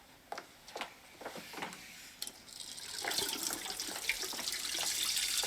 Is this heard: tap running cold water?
yes